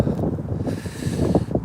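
Strong outdoor wind buffets the microphone in low, rumbling gusts that surge and ease continuously, with no speech over the roar.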